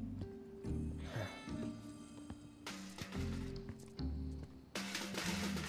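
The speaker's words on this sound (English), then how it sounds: "Cat making all that noise," A cat meows several times in Final Fantasy 7 Remake, the calls rising over game music and ambience in a repeating pattern, with no talking.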